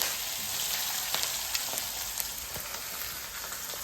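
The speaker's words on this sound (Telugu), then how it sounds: "ఉల్లిపాయలు కొంచెం వేగాయి." Onions frying in oil for poha make a soft, continuous sizzle with faint scattered pops and light crackles, fairly quiet and steady, with no voices over it.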